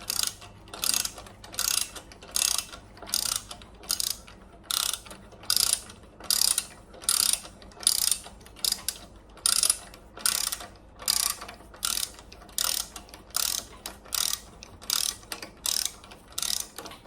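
A ratchet wrench tightening a bolt to torque on a 1972 Volkswagen Super Beetle engine, giving steady, close, loud bursts of clicking ratchet strokes in a regular back-and-forth rhythm, about two per second, with no speech.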